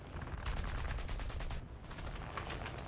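Rapid bursts of automatic gunfire in an aircraft combat video game, loud and continuous with a brief pause midway and no talking.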